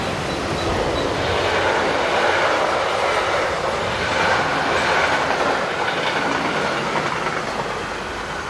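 Austrian class 1144 electric locomotive 1144-121 hauling a passenger train from Linz to Passau rolls past close by, a steady loud rumble and rush of wheels on rails with faint clickety-clack, swelling and holding for the whole stretch.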